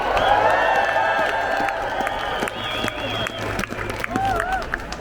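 A large outdoor protest crowd in London cheers, whoops and applauds, sustained and loud, with a voice or two rising from the mass of sound.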